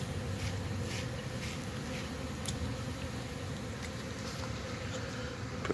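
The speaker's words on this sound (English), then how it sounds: "watching these bees fly in and out" Bees buzz steadily around a painted backyard hive box as they fly in and out, a soft continuous hum close to the hive.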